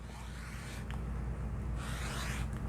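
A rotary cutter rolls across fabric in two long, raspy swipes, close and fairly quiet over a low background hum.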